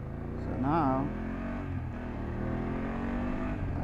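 A BMW F800GS motorcycle pulls away ahead of cars from a standstill, its engine note rising sharply once then settling into a steady drone under wind noise, with traffic around.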